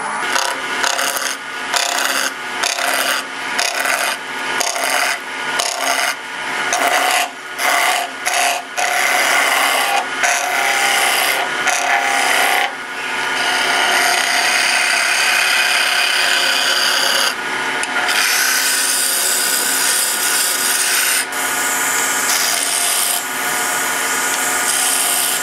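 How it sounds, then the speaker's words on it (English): A skew chisel roughs a spinning wood blank on a lathe into a cylinder for an ornament, cutting in a series of rhythmic scraping passes at first, then settling into a continuous loud rasping cut. "first thing I'm gonna do is just rough this out, turn this into a cylinder. So you can use a roughing gouge. I tend to like to rough with a skew"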